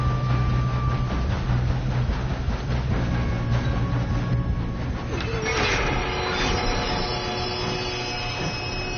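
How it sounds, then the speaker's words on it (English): A train rumbles steadily along the tracks in the video game Red Dead Redemption 2, a loud continuous roar with rhythmic rail clatter and a brief metallic screech midway. "We have to stop this train."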